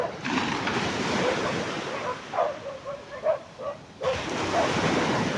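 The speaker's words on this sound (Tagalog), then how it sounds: "so may nag-aaway na aso" Dogs near the shore barking and yipping in a scuffle, sharp repeated barks and whimpers over a steady backdrop of waves and surf.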